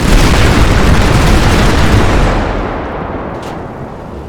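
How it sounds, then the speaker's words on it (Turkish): In the GTA 5 video game, a C4 bomb detonates with a loud, dense, roaring boom that fills the first two seconds and then slowly fades into a long rumbling tail. "Bombayı patlattım."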